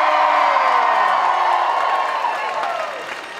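An audience at a live sideshow performance cheers, screams and shouts in one loud, dense burst of crowd noise that slowly fades over a few seconds.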